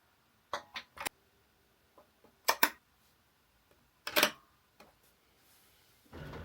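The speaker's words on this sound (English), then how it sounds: "There's 4 screws labelled heat bed, and you're just going to insert them in using the big Allen key." Short clicking bursts of a metal Allen key driving screws into the heat bed of a Bambu Lab A2L 3D printer, three separate clusters of ratchety ticks close up with quiet pauses between, ending in a soft rustle.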